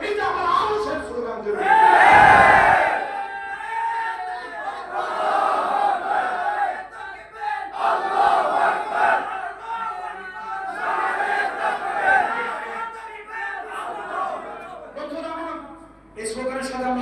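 A large crowd at a Milad-un-Nabi mahfil in Boro Hatiya loudly chants the Nara-e-Takbir slogan. Massed voices swell into a strong shout near the start, then continue in rising and falling waves.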